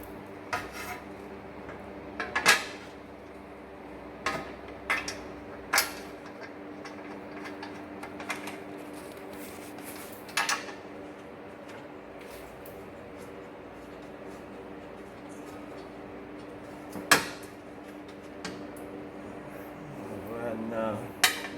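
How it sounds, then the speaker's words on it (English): Bolts being fitted to a skid plate under a Subaru Outback Wilderness, with scattered metallic ticks, rubs and clinks over a quiet hum, and faint voices. "We'll get some bolts in it."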